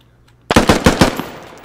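Close-range automatic gunfire in the Squad video game, a loud burst of about five rapid shots followed by a short decaying echo after a moment of quiet.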